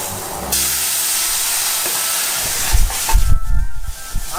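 A splash of Martell cognac hits a hot pan of crushed pepper for a pepper sauce, bursting into a loud, sustained steamy hiss that later breaks into sputtering bubbles.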